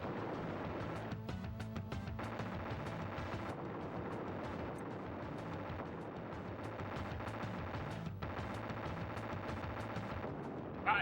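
Shots and explosions from the SNES game Time Slip sound over steady looping chiptune music, with repeated blasts scattered through the clip at an even loudness.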